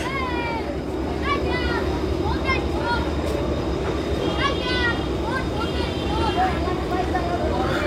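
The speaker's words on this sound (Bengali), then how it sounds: "তো আউলিয়াপুর থেকে যাত্রী নেওয়া শেষ, ছেড়ে দিল লঞ্চ" A passenger launch pulls away from the Auliapur ghat on a river route, its engine drone steady beneath lively chatter and calls from many people nearby.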